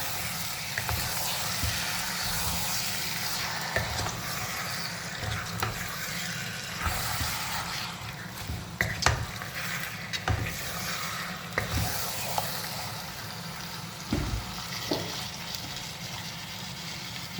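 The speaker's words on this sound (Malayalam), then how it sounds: "നമുക്ക് ഇറച്ചിട്ട് കൊടുക്കട്ടോ നല്ലോണം നമുക്ക് മിക്സ് ചെയ്യാം" Rabbit meat is stirred into sautéed onions and fried in a pan for a Kerala-style roast. A steady sizzle runs throughout, broken by intermittent scraping and clattering from stirring nearby, with no voices.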